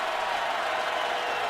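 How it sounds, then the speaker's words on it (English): A dense, steady roar of a stadium crowd at a Raiders at Titans football game in Nashville, a broad wash of massed voices filling the whole brief moment without letup. "Crowd is energized here in Nashville."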